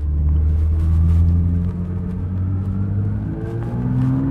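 A Porsche 911 GT3's engine revs up loudly as the car pulls away, a close, deep rumble with rising and falling engine tones as it accelerates and shifts, no voices present.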